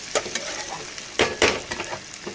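Food sizzles and fries in a pan while a spoon or spatula stirs and scrapes in a few uneven strokes. The sizzle is steady and close, with no talking.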